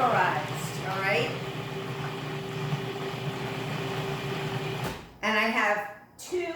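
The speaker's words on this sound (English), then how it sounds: "you're going to pulse it until your macadamia nuts are completely pulverized" A food processor whirs as it pulses macadamia nuts, first a long steady motor drone with grinding, then short bursts separated by brief stops, with a person talking in places.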